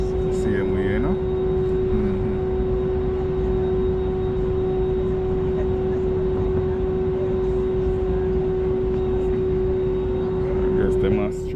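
A passenger airliner taxis toward the runway at Fort Lauderdale airport, heard from inside the cabin as a loud, steady engine drone with a sustained whine, while someone talks over it.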